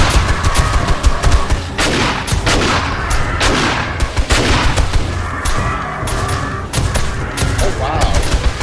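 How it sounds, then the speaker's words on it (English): Defensive turrets in 7 Days to Die fire steadily at a zombie horde at a choke point, a dense, continuous stream of loud gunfire with overlapping bursts and booms throughout. "Those turrets are taking care of."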